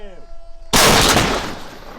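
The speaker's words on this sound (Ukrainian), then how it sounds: "Постріл." A single loud, sharp blast cracks out after a quiet moment, followed by a long rumbling decay.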